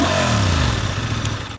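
Exhaust note of a 2025 Honda Transalp 750 motorcycle, a steady close, loud low burble at idle that holds evenly before cutting off at the end.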